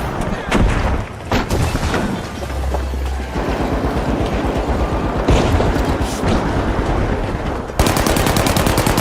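Explosive bursts and rapid gunfire from a team-based shooter video game, dense and loud throughout, with a deep boom early on and continuous automatic fire, no voices.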